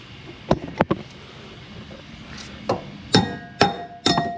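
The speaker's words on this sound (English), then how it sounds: "get in there, tap it out with a hammer" A hammer taps a shock absorber out of a car's trailing arm: sharp metallic strikes, two close together, then a pause and three ringing blows in quick succession, near and loud.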